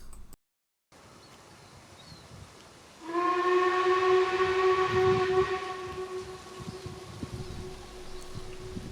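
The steam locomotive River Mite on the Ravenglass and Eskdale Railway sounds its whistle loud and sustained for several seconds, a steady multi-tone blast that trails off into outdoor background rumble.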